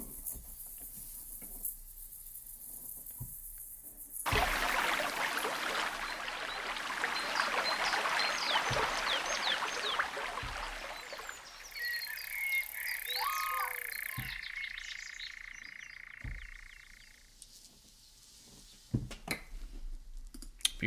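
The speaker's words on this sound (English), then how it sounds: "this is Atmosphere's Wetland. Oh, so literally the sound of the wetlands" Recorded wetland ambience from an orchestral sample library, with a dense chorus of croaking frogs over steady water patter, then quieter stretches with thin, high insect-like trills and scattered soft knocks.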